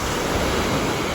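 Steady roar of ocean surf at Sinquerim beach in Goa, a dense, loud, continuous wash of breaking waves with no distinct pauses and no voices.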